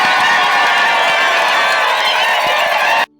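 A dense crowd cheers and shouts in welcome at the arrival of a church coordinator in Kabinda, a loud, continuous roar of many voices close by that cuts off abruptly.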